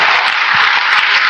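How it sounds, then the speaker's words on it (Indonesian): A church congregation claps together in a steady, dense round of applause that fills the room at an even, loud level from start to finish. "Beri tepuk tangan dulu saudaraku"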